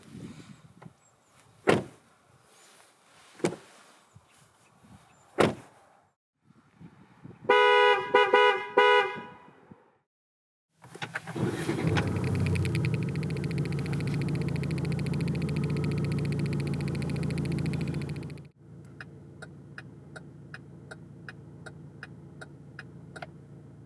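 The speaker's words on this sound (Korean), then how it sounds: "잠시 이코녹스가 들려주는 감성 측면의 소리를 들어볼까요?" A 2020 Chevrolet Equinox 1.6 diesel gives a run of sharp door thunks, a whirring power window, a long loud horn blast and then a rapid ticking indicator, each heard alone and close.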